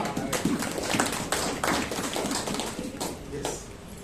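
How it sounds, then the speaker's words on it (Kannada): A church congregation at a Sunday Kannada worship service claps together, a dense run of hand claps through the whole stretch, fairly close and continuous. "ಹಲ್ಲೆಲೂಯಾ, ಚಪ್ಪಾಳೆ ತಟ್ಟೋಣ."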